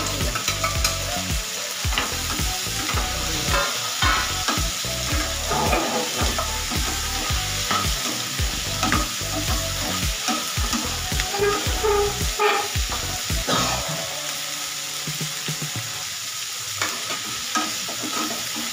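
Garlic and ginger frying in a pan for dhaba-style paneer masala, a steady close sizzle broken by repeated scraping stirs at an uneven rhythm, which thin out near the end, no voices.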